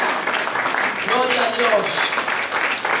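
A crowd applauds steadily with dense clapping at a Christian church service, while a voice speaks over the noise.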